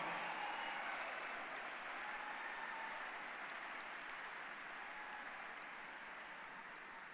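Church audience at a Sunday night service applauding steadily, a dense continuous clapping that fills the room and slowly fades toward the end, with no voices over it.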